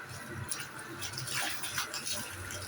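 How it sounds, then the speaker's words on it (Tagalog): Water gushes steadily from a tap, a continuous hissing splash with faint clatter, close by. "At malakas naman ang tubig."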